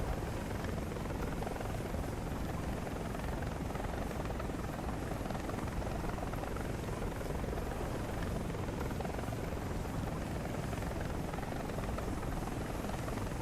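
Lockheed AH-56 helicopter in the War Thunder video game, its rotor and engine producing a dense, constant, loud drone that fills the scene without change.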